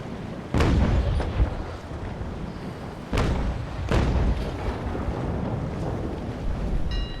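Ship cannons boom in the naval combat game Naval Action, several heavy distant blasts spaced over a steady wash of wind and sea noise.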